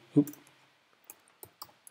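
Sparse clicks of a computer keyboard form a few separate taps and short bursts with gaps between them, close and fairly faint, opening with a louder thump.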